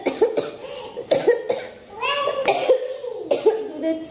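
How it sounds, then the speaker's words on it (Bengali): A woman sick with chickenpox coughs in a series of sharp, close, repeated bursts, with a voice and some laughter mixed in between. "এত কাশি হচ্ছে কি বলবো"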